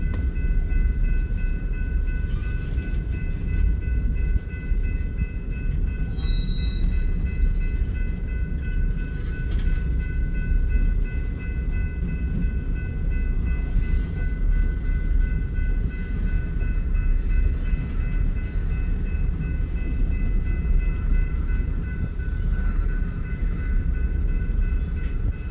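A ballast maintenance train passes on the tracks at Ashland with a loud, continuous heavy rumble of rolling cars, steady throughout, with high whining tones above it.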